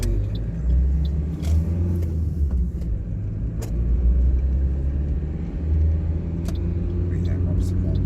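Car accelerating on a road during a driving lesson in Kaunas, a steady low engine rumble and road noise rising slightly, heard from inside the cabin with a few faint clicks.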